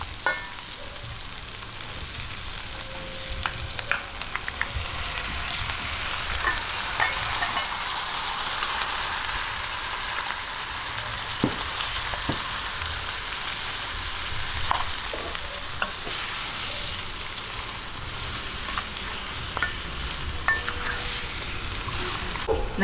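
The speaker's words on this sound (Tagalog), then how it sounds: "pagka po ganyang malambot na yung ating sibuyas, lalagay na po natin itong ating ribs ng baka" Beef ribs fry with softened onions in a pan, giving a loud, continuous crackling sizzle that holds steady throughout, with occasional light clinks from a utensil against the pot.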